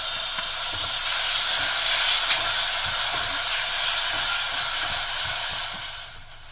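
Chopped tomatoes hit hot oil with spluttering mustard seeds for moong dal ginger rasam, giving a loud, steady steamy hiss and sizzle that holds for about six seconds and then drops away abruptly at the end, with no talking.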